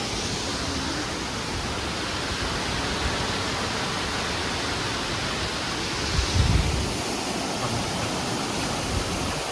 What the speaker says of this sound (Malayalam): എഡിൻബറ വന്നിട്ട് ആകെ കണ്ടക്കുന്ന ഒരു വാട്ടർഫാൾസ് ആണ് ഇത്.